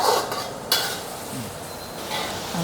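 Onion and screw peppers sizzle in a hot pan as a spatula stirs them, with a couple of sharp scraping clacks against the metal over a steady frying hiss.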